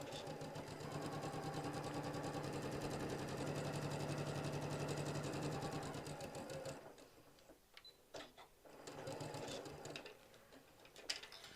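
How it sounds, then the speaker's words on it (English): A sewing machine stitches a fabric bag with a quarter-inch seam, running in a steady rapid whir for about seven seconds, then falling away to quieter handling sounds and brief bursts. "I'm going to sew with a 1/4 inch seam"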